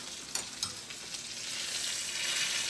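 Breaded steak fries in a pan over turned-down heat, giving a steady, close sizzle with a couple of sharp pops early on. The hiss swells slightly toward the end, with no talking.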